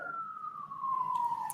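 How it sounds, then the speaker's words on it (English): A police siren wails in a slow falling tone, fairly faint at a distance, with a couple of brief higher chirps near the end. "sirens. I'm next to a police station."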